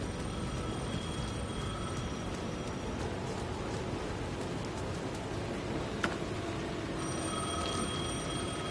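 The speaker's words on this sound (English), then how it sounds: "The phone was ringing again." Telephone ringing in the video game Alan Wake 2, repeated bell-like trills over a constant dense rumbling ambience, moderately loud.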